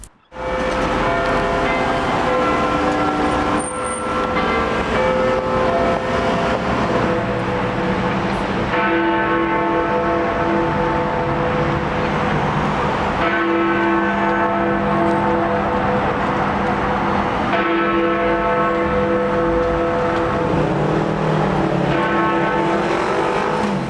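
Big Ben's large bells chime the hour in London, loud and resonant, each strike layering into a long, sustained wash of overlapping tones with traffic noise beneath.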